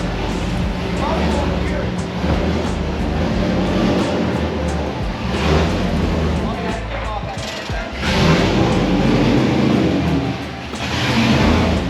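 A drift car driving around the block makes a steady, loud engine drone with rising revs and road rush, heard from nearby and mixed with continuous broadband noise throughout.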